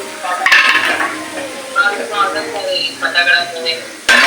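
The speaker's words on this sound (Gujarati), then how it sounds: "આરતીને સાચું જો ગુસ્સો કાઢે છે ભાણા ઉપર વાસણ ઉપર ગુસ્સો કાઢે છે" Metal kitchen utensils and pots banged and clattered in anger, a run of loud sharp clanks and rattles close by, with irregular bursts and short pauses.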